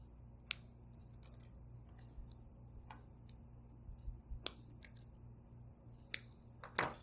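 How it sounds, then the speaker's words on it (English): Angle cutters trimming the conductors of a network cable during termination, giving a few sharp, isolated snips scattered over a steady low hum, with no talking. "I like to use my angle cutters to get nice and trimmed to the edge."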